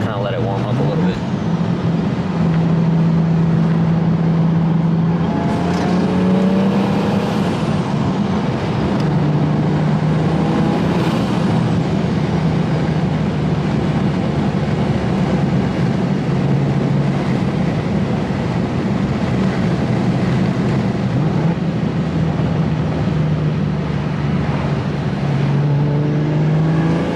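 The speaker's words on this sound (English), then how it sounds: "let's let you guys hear the single turbo sounds for the meantime" Single-turbo BMW F80 M3 cruising on a drive after warm-up, its engine droning steadily with rising and falling pitch as it shifts, road and wind noise underneath and someone talking over it at times.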